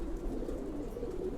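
Lalpatti pigeons with their chicks give a soft, continuous low cooing hum from nearby, steady throughout with no voices.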